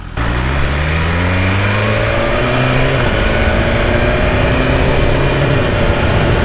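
BMW S1000RR sport motorcycle engine, loud and close, revving steadily and accelerating with a rising, smooth mechanical drone that climbs in pitch through the run.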